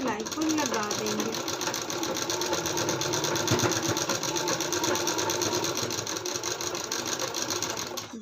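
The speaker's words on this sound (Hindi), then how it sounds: "खींचते हुए हम पीछे के साइड से सिलाई को लगा देंगे" Electric sewing machine stitching the back of an embroidered blouse, a steady continuous motor whir and rapid needle chatter running loud throughout, with a voice talking over it.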